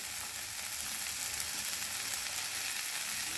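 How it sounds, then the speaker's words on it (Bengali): Ground coriander, cumin and turmeric frying in an oily pan for semolina veg burgers, giving a loud, dense, continuous sizzle right up close with no voices. "এবারে আর একটু আমি কষিয়ে নেব।"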